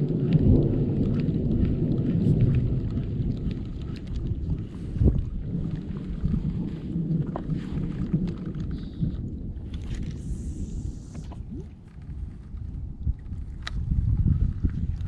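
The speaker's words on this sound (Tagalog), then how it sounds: "Kasi may kulog na sa tapat natin eh." Deep thunder rumbles through a stormy spell while fishing from a boat, a steady low roll blended with wind buffeting the microphone and no voices.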